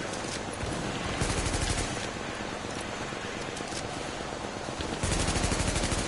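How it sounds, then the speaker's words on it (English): Sustained automatic machine gun fire in The Division video game, dense rapid bursts running continuously and loudly with a brief surge near the end, no talking. "if you don't get hit by that machine gun, it will fucking destroy us"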